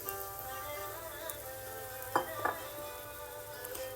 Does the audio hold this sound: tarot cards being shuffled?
no